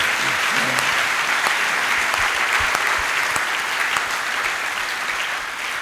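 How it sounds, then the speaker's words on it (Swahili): A church congregation claps steadily in dense, continuous applause that carries on for about six seconds with no break. "Tumpikie Bwana makofi."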